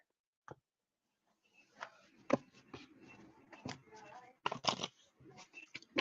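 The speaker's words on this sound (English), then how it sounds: "Now, let me give it a couple of shuffles." Soft papery riffles and slaps of tarot cards being shuffled, a few quick bursts close by, with faint handling noises in between.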